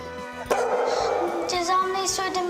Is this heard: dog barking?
yes